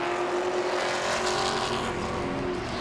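Grand stock race cars racing at Langley Speedway, a loud continuous engine roar from a pack of cars at full throttle, close and sustained for the whole moment.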